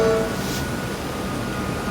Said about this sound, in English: There's something about the sound of a train.